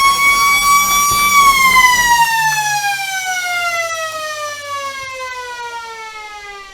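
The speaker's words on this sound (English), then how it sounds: "there's the siren" A loud siren at the end of a quarter in a Lions vs Goannas match holds a steady tone, then its pitch glides slowly downward as it winds down and fades, with crowd noise underneath at first.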